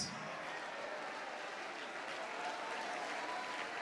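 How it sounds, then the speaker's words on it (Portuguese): A church congregation applauds in continuous, dense clapping that holds at an even level throughout, with no talk heard over it. "vamos aplaudir, vamos glorificar mais"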